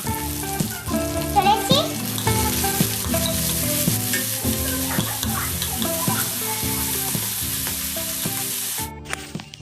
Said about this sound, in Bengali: টমেটো কুচি অ্যাড করে দিচ্ছি আর টমেটোটাকে নরম হওয়া পর্যন্ত কিন্তু ভাজতে থাকবো